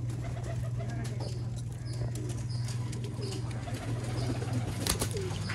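Old line pigeons coo softly and repeatedly in a loft, with low murmuring calls, a few sharp flutters and a continuous low hum underneath.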